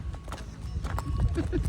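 In Mustang, hooves clop in a quick, close series of knocks on the ground, a few sharp strikes over a low rumble, briefly mixed with nearby voices.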